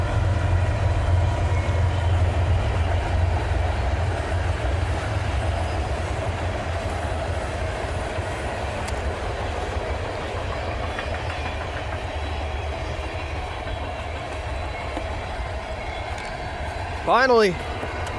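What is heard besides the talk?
Norfolk Southern train passing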